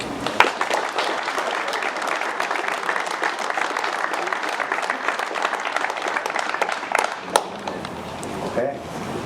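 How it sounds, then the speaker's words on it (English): Crowd clapping for the Upperchurch Drombane minor B hurling team after the final, a dense steady patter of many hands that tapers off near the end, with a few voices underneath. "just one big clap then for Upperchurch for a great game"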